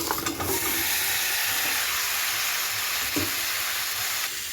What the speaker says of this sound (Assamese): 1 মিনিটৰ বাবে মই উৰহিখিনি ভাজি ল'ম।